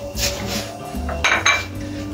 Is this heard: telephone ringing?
no